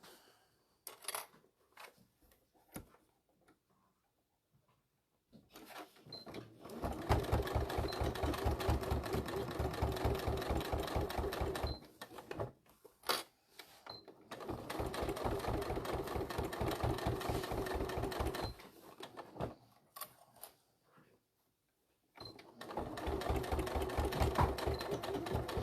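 A sewing machine stitching fabric runs in three long steady bursts of rapid mechanical whirring, separated by quiet pauses filled with small handling clicks and rustles.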